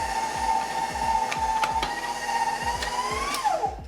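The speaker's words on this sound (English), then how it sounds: "Once you run it through the meat grinder" A meat grinder runs steadily at close range, grinding cheese and bread for bacon-wrapped meatballs, with a constant motor whine and a rapid repeating mechanical chug throughout.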